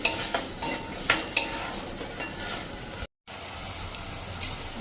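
Peas and onions cook in a pan with a soft, steady sizzle, while a spoon scrapes and stirs in several sharp bursts. A short dropout interrupts the sound, and no one speaks.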